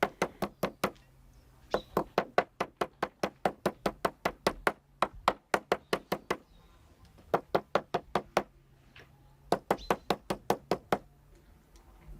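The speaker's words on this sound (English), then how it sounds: "She carefully pounds each piece with a hammer" Sharp, steady thuds of a hammer pounding meat, struck in quick rhythmic runs with short pauses between, close and loud, no voices.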